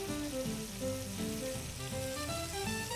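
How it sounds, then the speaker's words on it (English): Pieces of food frying in a pan give a steady, close sizzle for about three seconds, with a faint musical tone underneath and no talking. "Okay, these have been frying for a little while and we're ready to turn them."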